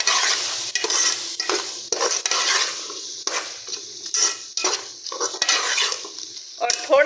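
Potatoes and carrots frying with turmeric and ground coriander in a pan, a close, busy sizzle broken by repeated scraping stirs and clinks of a utensil against metal, with no talk.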